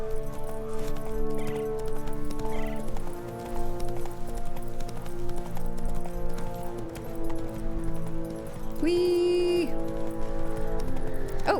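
Roach the horse from The Witcher 3 moving at a steady gallop, rhythmic hoofbeats running under a thick game soundtrack and ambient layers, with a brief tonal game chime near the end.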